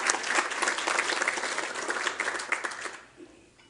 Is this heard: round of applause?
yes